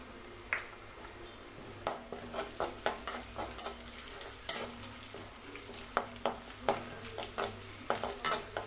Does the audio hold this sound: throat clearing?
no